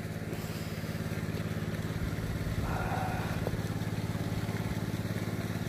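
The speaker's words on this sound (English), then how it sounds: "There's a boat." A boat engine drones steadily in the distance, a low, even rumble that carries on without a break.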